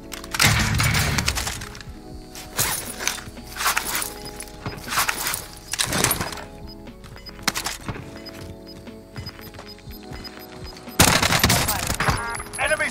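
Gunfire in the Warzone battle royale shooter during a firefight with the LC10 SMG: repeated loud bursts of shots in clusters, some near and sharp, others thinner, over a busy game soundscape with faint game voices.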